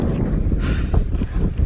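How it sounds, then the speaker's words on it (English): Gusty Wyoming wind rumbles loudly against the microphone throughout, low and blustery, with no one speaking. "The entire damn state is windy."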